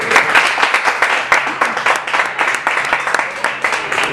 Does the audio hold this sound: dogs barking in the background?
no